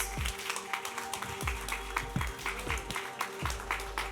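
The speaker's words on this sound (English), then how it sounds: "So everybody give a round of applause." An audience gives a speaker a round of applause at an educational technology event, with steady claps from a modest crowd, faint and somewhat distant, under a low constant hum.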